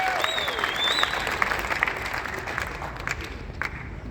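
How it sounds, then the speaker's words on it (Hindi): Crowd applause at a gathering in Bhilwara, steady and dense for the whole stretch, with a few high whistles and some voices mixed in underneath. "तालियां"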